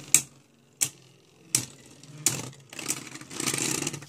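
Beyblade spinning tops clash in a battle stadium: a series of sharp metallic-plastic impacts spaced under a second apart, followed by a sustained whirring scrape, fairly faint and close.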